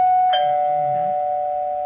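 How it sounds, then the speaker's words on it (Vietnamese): A wireless Wi-Fi video doorbell monitor plays its ringtone, a steady electronic chime tone sounding loud and alone, with a brief ding accent near the start. "là âm lượng máy phát ra khi mà thông báo có người bấm chuông bên ngoài"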